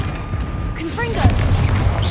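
Confringo spell blast in Hogwarts Legacy, a close, booming burst that erupts abruptly mid-clip with crackling debris after, while a voice shouts the incantation.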